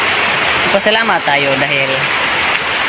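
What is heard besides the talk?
rain falling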